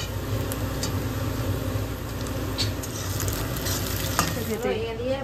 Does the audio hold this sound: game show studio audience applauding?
no